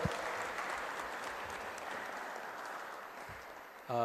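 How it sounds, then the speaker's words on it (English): An audience at a lecture event applauds Professor Dr. Karad, a soft, even wash of many hands clapping at a distance, steady throughout and fading slightly before a sharper sound at the end. "A huge round of applause to revered Professor Dr. Karad sir."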